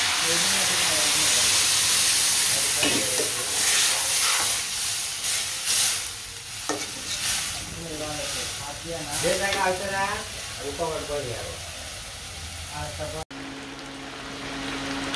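Ghee sizzling and frying in a pan while curry cooks, a steady hiss with crackling pops and occasional stirring scrapes, close and loud, with someone talking over it before it cuts to quieter background.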